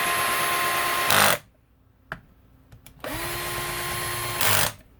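A power drill runs in bursts while snugging engine bolts during a Yamaha YFZ450 motor rebuild. Two sustained whirring runs, each ending in a brief louder rev, are split by a quiet gap with a few clicks.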